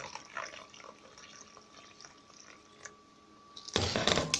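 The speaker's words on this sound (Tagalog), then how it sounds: "So, lagyan natin yung tubig." Water pours into a thick, foamy mixture being prepared, a faint trickle at first that turns into a louder splashing rush near the end, with no talk.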